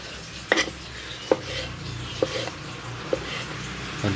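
Banana tree stem stir-fried in a pan, a steady sizzle with periodic metallic scrapes and clinks of a spatula against the pan, close and moderately loud.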